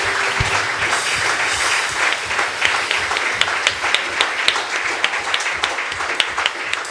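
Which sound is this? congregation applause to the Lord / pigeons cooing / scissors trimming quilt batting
congregation applause to the Lord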